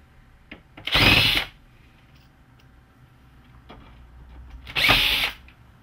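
A power screwdriver backs out black self-tapping screws from an optical engine assembly inside a Hitachi ED-A100 projector, with two short, loud whirring bursts separated by quiet handling noises.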